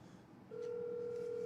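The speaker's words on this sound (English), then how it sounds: "Yeah, that's the phone that ringing there." A telephone begins ringing after a brief pause, a steady electronic tone that holds evenly over a quiet background.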